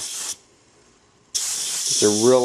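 A spray gun lays a light mist of gloss black paint, giving a short burst of steady hiss, a second of quiet, then a longer hiss with a voice coming in over it near the end.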